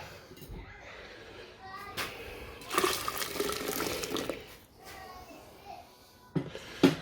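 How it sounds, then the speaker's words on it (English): Hot water poured into a container while refining 9 karat gold jewellery, a steady close splashing fill with a louder gush in the middle and a few clinks near the end, faint voices underneath. "I'll pour some more water in."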